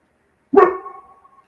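A single sharp dog bark rings out close and loud, then trails off into a brief fading echo, with no other sound around it.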